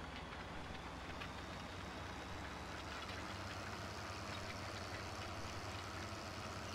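An articulated tractor in Farm Simulator 2013 pulls a plow with a steady, droning engine rumble that stays even and fairly faint throughout, with no talking.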